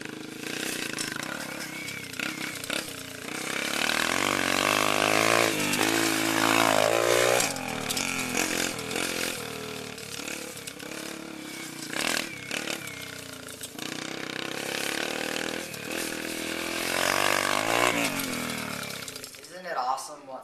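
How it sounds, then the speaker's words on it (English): An early steam-era motorcycle of Sylvester Roper's design runs with a loud, raspy, chainsaw-like engine drone that rises and falls in pitch, sustained almost throughout with clattering bursts. "this is what it was possibly like after Sylvester Roper invented the motorcycle"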